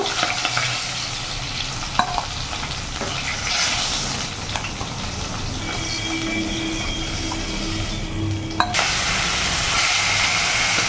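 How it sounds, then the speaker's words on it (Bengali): Fish, including aila, frying in hot oil in a pan gives a continuous crackling sizzle with occasional spatula scrapes and taps as pieces are turned and lifted out. "এইভাবে আমি এক এক করে সব মাছগুলো ভেজে তুলে ফেলবো।"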